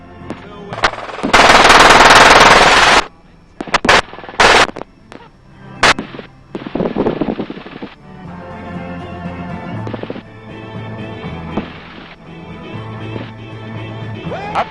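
Loud bursts of machine-gun fire from a gunship helicopter at a Las Vegas shooting range, one long sustained volley and several shorter rapid bursts, over steady rotor and cabin noise.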